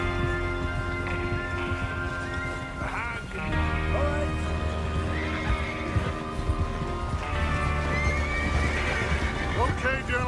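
Horses in the Red Dead Redemption 2 western game whinny and snort amid clip-clopping hooves, with gang members talking over the steady ambient noise as they prepare for a train robbery.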